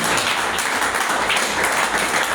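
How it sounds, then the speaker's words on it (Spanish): A church congregation breaks into dense, continuous applause filling the room, steady and fairly loud throughout the short stretch with no one speaking over it. "Denle un aplauso a Jesucristo."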